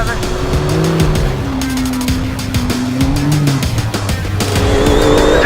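A UTV race car at the UTV World Championships roars at full throttle, its engine note rising and shifting through gears with tire squeal mixed in, loud and close throughout, with voices heard over it.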